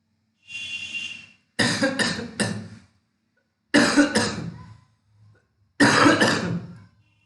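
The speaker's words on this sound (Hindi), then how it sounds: "माफ कीजिएगा, खांसी हो रही थी।" Several separate bursts of harsh coughing, each a cluster of two or three rough hacks with short pauses between, close and fairly loud with no talking.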